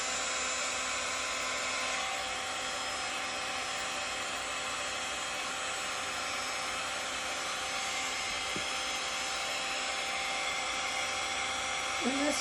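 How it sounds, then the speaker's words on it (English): A heat gun blows steadily while warming soy candle wax, a constant loud airy whoosh that fills the whole stretch without pause. "All right, so I have my heat gun,"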